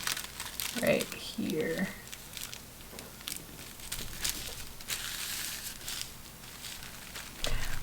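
Paper pattern piece for pilgrim clothing being handled and folded, with crinkling and crumpling rustles that come and go close by, mixed with brief speech.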